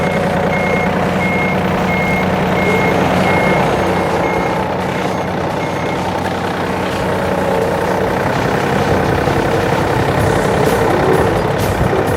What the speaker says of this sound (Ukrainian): Коли ми включаємо реверс назад, у нас задня нав'язка піднімається автоматично.